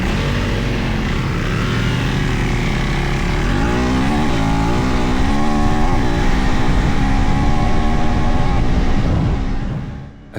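A KTM 390 Adventure R motorcycle accelerates hard off-road, its engine a loud, continuous roar with rising pitch sweeps as it revs up through the run, then dropping away abruptly at the very end.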